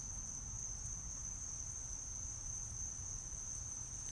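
Crickets chirp steadily outdoors in the evening near a bonfire, a continuous high trilling drone over a low rumbling background, with no one speaking.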